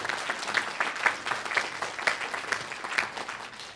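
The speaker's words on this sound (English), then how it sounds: "Give yourselves a round of applause." An audience at a South Wales learning disability conference claps in steady, moderately loud applause that lasts a few seconds.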